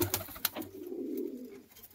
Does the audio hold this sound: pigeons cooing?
yes